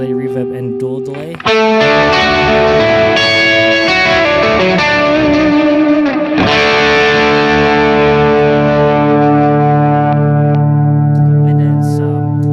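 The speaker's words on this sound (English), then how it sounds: "That's modulated reverb and dual delay." Electric guitar through modulated reverb and dual delay pedals, a brief opening phrase followed by loud, ringing chords whose shimmering tails trail on and fade slowly.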